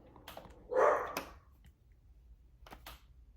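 A dog barks once, close and fairly loud, with a few softer clicks or taps before and after in an otherwise quiet indoor room.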